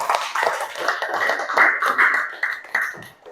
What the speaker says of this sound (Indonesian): Tepuk tangan untuk temannya sudah berkomentar.